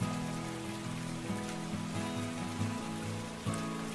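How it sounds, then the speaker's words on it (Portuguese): Steady rain falls throughout a scene in the video game Reckless Love, a constant wash of patter under a low, sustained music bed, with no voices. "Tá tarde pra você ficar aqui dormindo na chuva e no frio."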